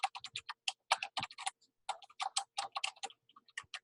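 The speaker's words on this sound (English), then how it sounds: "I'm going to type Avery Middle School" Typing on a computer keyboard, a quick run of close, crisp key clicks in irregular bursts with brief pauses between words.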